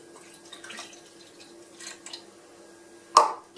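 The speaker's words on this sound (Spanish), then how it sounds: "vamos a añadir el agua" Water trickles and drips into the tank of a Philips Avent SCF870 baby food steamer and blender, quiet and close, ending in a sharper splash near the end.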